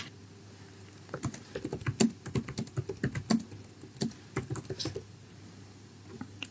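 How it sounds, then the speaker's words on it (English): Keystrokes on a computer keyboard as a prompt is typed, a quick irregular patter of distinct clicks in bursts, close and fairly quiet, with no talking. "what I'm going to do is to type a prompt"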